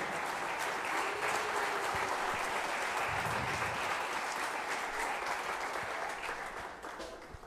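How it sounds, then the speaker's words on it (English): Sustained applause and cheering from a theatre audience after a youth stage production, a dense steady roar of clapping that fills the room and thins slightly near the end. "can we give one final round of applause to these talented boys and girls"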